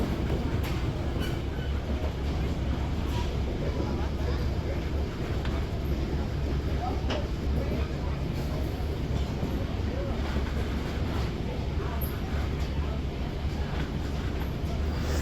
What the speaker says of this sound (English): this cool Montreal Locomotive Works locomotive in action.